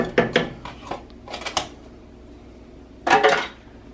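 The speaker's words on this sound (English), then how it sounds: "And you whisk it into your gravy." A whisk clatters against a pot as sour cream is beaten into gravy, giving quick bursts of metallic scraping and tapping separated by short pauses, close and fairly loud with no talk.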